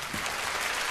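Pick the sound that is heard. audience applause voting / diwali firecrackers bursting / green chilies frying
audience applause voting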